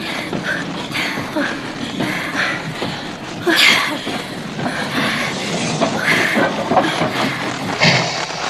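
A train runs along rails with continuous rumbling and clattering, occasional louder clanks and squeals, at moderate distance and steady throughout.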